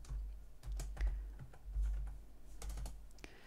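Typing on a computer keyboard while entering a table name in a database program, with soft irregular key clicks and a few firmer taps over several seconds, close and fairly quiet, with no one speaking.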